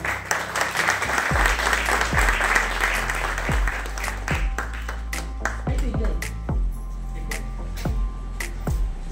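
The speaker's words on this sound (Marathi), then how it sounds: "शेवटच्या जोरात टाळ्या पुरस्कारासाठी बरं का" An audience at a state-level award ceremony claps loudly, the applause strongest at first and thinning into scattered claps, with some voices and low thumps underneath.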